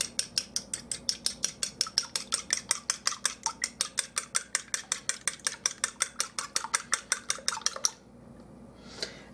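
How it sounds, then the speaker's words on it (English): An egg is beaten in a bowl with a utensil, producing a fast, even run of sharp clicking taps for about eight seconds before stopping abruptly, close and alone. "we're going to take 1 egg and we're just going to carefully beat it"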